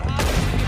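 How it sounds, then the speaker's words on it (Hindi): Hip-fire gunshots in Red Dead Redemption 2, a loud, dense burst of game gunfire with a sharp crash near the start, filling the whole short moment with no talk. "ओके हिप फायर मार के अभी क्या फायदा होगा मुझको"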